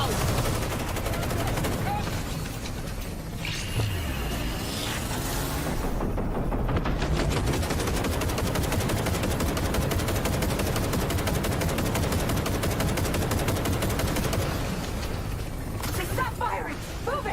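Sustained automatic gunfire in the video game Cyberpunk, loud and continuous rapid bursts, with shouting voices over the firefight.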